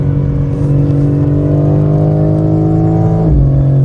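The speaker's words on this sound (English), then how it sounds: "this exhaust sounds sick" A BMW G82 M4 fitted with an AWE exhaust revs steadily and loudly up close, its engine note climbing through a sustained high-rpm pull before dropping off sharply near the end.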